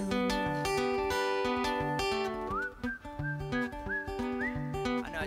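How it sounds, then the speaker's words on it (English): A person whistles a melodic solo over a stringband's steady strummed and plucked accompaniment, the whistle rising clearly above the instruments in short sliding phrases. "I know I just whistled a solo."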